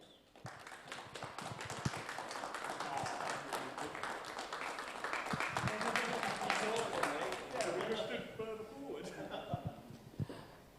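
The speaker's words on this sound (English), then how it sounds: "Huge round of applause for your top 3." A crowd applauds the top three finishers at a Red Bull Ring sim racing round, steady clapping rolling on for several seconds before tapering off, with a voice talking over it.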